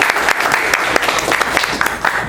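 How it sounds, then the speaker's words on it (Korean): An indoor audience at a presentation applauds, dense continuous clapping from many hands, loud and steady throughout. "박수 한번 주세요."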